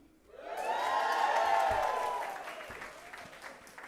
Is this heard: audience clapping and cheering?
yes